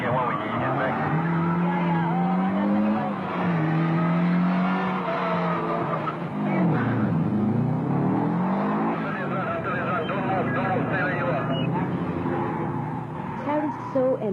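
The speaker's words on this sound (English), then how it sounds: "And Donovan Tan, driving a Subaru Impreza WRX, had incredible runs in the afternoon." A Subaru Impreza WRX races around a carpark course at a 1999 Kallang event, its engine loud and close as it revs up and down through the turns, with tire noise and a voice talking over it.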